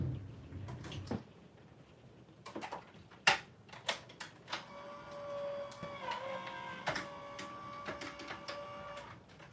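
Electronic card-cutting craft machine feeding a cutout through, with clicks and thumps followed by a steady mechanical whir and faint motor whine, quiet and close with no talk.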